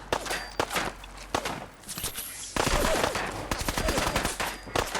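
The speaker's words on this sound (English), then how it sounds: "Who's shooting me?" Gunfire in the video game Fallout 4 sounds as repeated sharp shots and bursts crackling throughout, some heavier and closer, mixed with rapid rattling volleys and scuffling movement.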